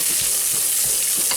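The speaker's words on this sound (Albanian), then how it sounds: "Më pas shtojmë edhe qepët, pasi ngrohet pak vaj me hudhra." Onions fry in heated oil with garlic, giving a loud, dense, continuous sizzle close to the pan, with soft stirring scrapes pulsing beneath and no voices.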